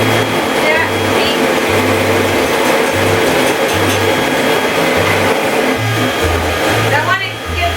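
An electric mixer whips egg yolks until fluffy, whirring loudly and steadily with a pulsing low hum that cuts in and out, while people talk over it.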